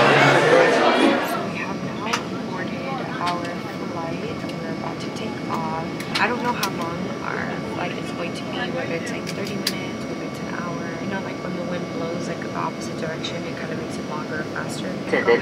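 Steady broadband roar of a jet airliner cabin in flight, with people talking over it and faint clinks and rustles nearby, louder at the very start.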